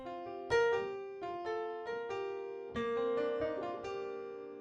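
A darker alt piano sample library from Westwood Sounds plays a gentle sequence of struck notes and chords, each decaying softly under the next, fairly quiet and close, with no one speaking.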